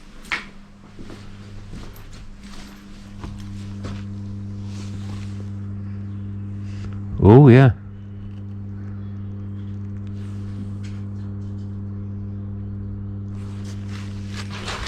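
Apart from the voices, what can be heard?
electrical hum from power substation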